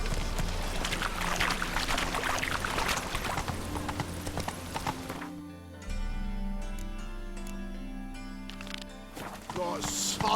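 Horse galloping in Witcher 3, steady clip-clop of hooves running continuously under in-game music and ambient tones, with a person speaking briefly over it.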